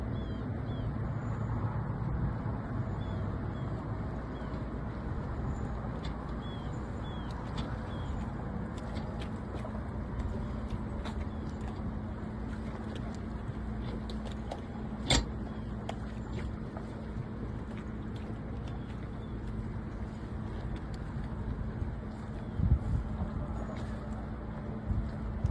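A sailboat motoring away from a dock near Pensacola, with a steady low engine drone and constant wind and water noise throughout, plus a few brief knocks and thumps.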